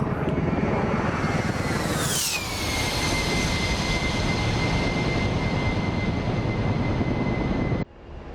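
A twin-engine A-10C Warthog jet in the DCS flight simulator roars loudly and continuously, its high whine sweeping down in pitch early on and then holding steady before the roar cuts off abruptly near the end.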